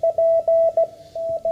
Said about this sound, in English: Let me go to CW signal here.